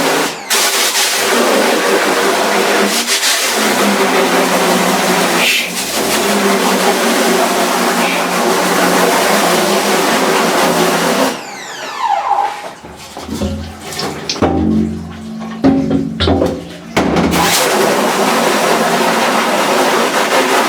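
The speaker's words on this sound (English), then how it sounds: "I used my pressure washer. I got as much of the ink off as possible" Pressure washer blasting leftover ink off a screen-printing screen, a loud continuous rushing spray for about eleven seconds, then broken, splashy bursts as the water is moved and stopped.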